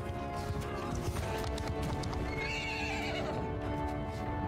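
A horse in the video game Mount & Blade II: Bannerlord whinnies loudly while hooves clip-clop in a steady galloping rhythm, with busy battle noise continuing underneath.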